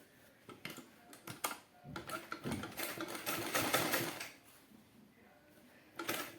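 Home sewing machine stitching a baby cap in short bursts, quiet clicks and taps giving way to a steadier whirring run, then a final brief burst.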